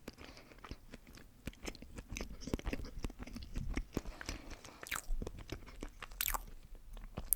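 Milka chocolate is bitten and chewed close to the microphone for ASMR, with repeated crisp crunches and wet chewing at an irregular pace and no speech.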